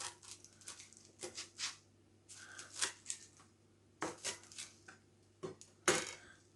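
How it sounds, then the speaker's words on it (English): Ponderosa pine needles being chopped for tea, a series of quick, close crisp cuts and taps in irregular bursts, with a faint hum in the background. "I'm chopping them up a little more."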